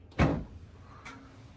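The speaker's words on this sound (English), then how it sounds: "Now we can open the door." A Samsung front-loading washing machine door is pulled open after unlocking, giving one loud clunk near the start and a fainter click about a second later in an otherwise quiet room.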